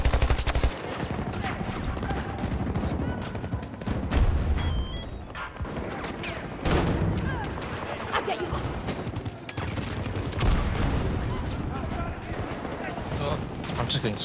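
SCAR rifle gunfire in a video game, dense bursts and sustained volleys of loud shots filling the whole stretch, with other distant gunfire and explosions around and a voice talking underneath.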